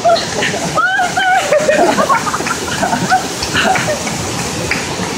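Water pours at Mambukal's third falls as a continuous splashing rush, with people talking loudly and excitedly close by over the falling water.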